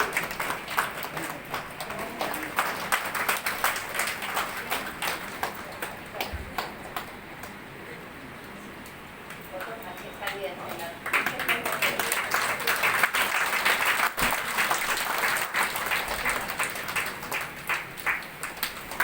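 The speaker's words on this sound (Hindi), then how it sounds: "आप सब जोरदार तालियों से तपन भाई जी का स्वागत करेंगे।" Audience at a Brahma Kumaris gathering in Siliguri applauding to welcome a guest, steady moderate clapping that fades briefly and then swells louder toward the end, with some talk underneath.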